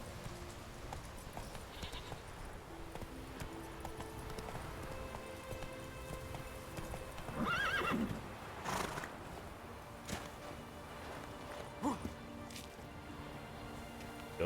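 Roach, the horse in The Witcher 3, moves along with soft, steady rhythmic hoofbeats amid quiet game ambience, with a brief louder burst partway through.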